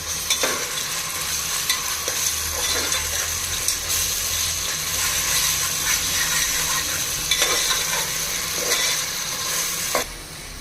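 Ginger garlic paste sizzles and fries in a pan for prawn pulao, a steady close hiss broken by the scrape and clink of a stirring spoon.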